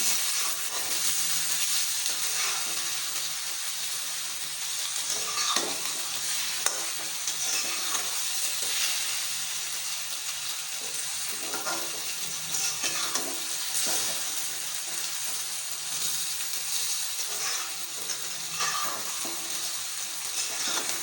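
Tinday sizzle and fry in a pan with tomatoes and green chillies: a continuous, even hiss of frying with occasional stirring scrapes, close and steady throughout, with no voices.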